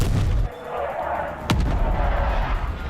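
Artillery fire in Call of Duty: Black Ops Cold War lands as loud booms over a rumbling battlefield, with one sharp blast standing out midway, mixed with game voice callouts and player chatter.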